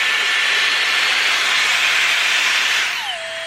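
A Dyson Airstrait hair straightener blows a loud, steady airy hiss across dry hair for about three seconds, then the rush drops in pitch and level as the airflow winds down.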